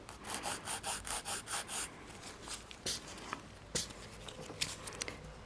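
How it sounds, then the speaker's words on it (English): Nail file rubbing down the side wall of an acrylic nail enhancement, a close run of about eight quick rhythmic strokes followed by scattered lighter scrapes and taps. "First filing step is sliding your file down this side wall."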